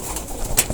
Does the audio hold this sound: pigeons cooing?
yes